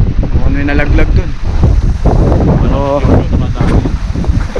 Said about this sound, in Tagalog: so mahangin pa rin